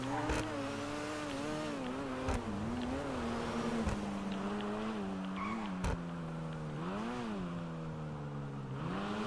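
A car engine in a Rockstar video game strains as it revs, the tone rising and falling repeatedly without climbing past a ceiling, with a few sharp clicks, fairly quiet throughout.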